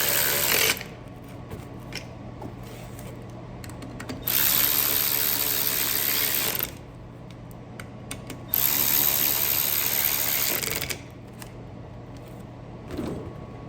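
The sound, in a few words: socket ratchet tightening windshield wiper motor bolt on snowcat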